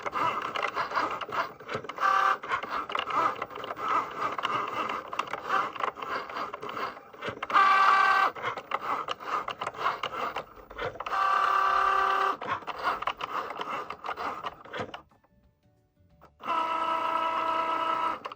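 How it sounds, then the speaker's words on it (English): A Cricut Joy cutting machine cuts an image out of card, giving a steady close whirring and scraping buzz with rhythmic motor bursts and surges. The noise runs continuously, pauses briefly near the end, then resumes. "So there it goes, cutting the corners first. It's cutting the image out."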